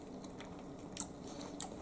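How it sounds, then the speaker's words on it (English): Someone chews a bite of homemade tuna salad, with soft, moist mouth clicks and a few sharper crunchy bites, close to the microphone and quiet, with no talking over it. "Let me take a taste."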